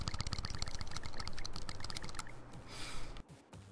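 A Nintendo Switch Pro Controller button is clicked rapidly during Splatoon 2 play, giving a fast, even run of sharp plastic clicks that fades into quieter game sound near the end.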